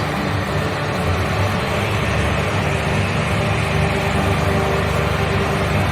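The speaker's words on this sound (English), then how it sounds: "It's a fuel injected turbocharged engine." Fuel-injected turbocharged generator engine running a 25 kW load test, a steady, loud, low droning hum that holds constant throughout with no talking.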